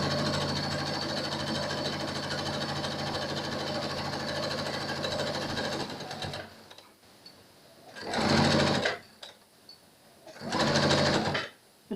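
A sewing machine stitches elastic onto a pleated fabric face mask, running in one long steady buzzing burst, then two shorter bursts after a quiet pause, loud and close with no talking.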